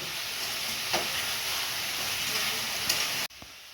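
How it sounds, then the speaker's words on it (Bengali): Papaya and potato pieces stir-fried with spices in a pan give a loud, continuous sizzle with a couple of spatula scrapes, then the sound cuts off abruptly near the end. "এবার ভালো করে কষিয়ে নেব।"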